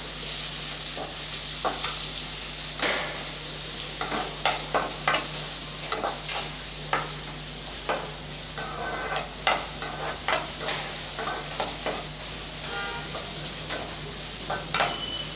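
Sliced big onions sauté in hot oil for a spicy dried-fish thokku, a steady close sizzle broken by frequent sharp spatula scrapes and taps against the pan throughout.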